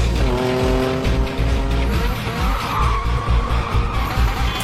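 Stripped-down drift cars sliding with long, loud tire squeals over roaring engines, continuous and close, the screech rising and shifting in pitch as the cars skid.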